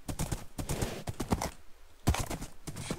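A horse in the video game Minecraft, hooves clip-clopping in quick, uneven clusters of sharp taps, fairly close, with short pauses between runs.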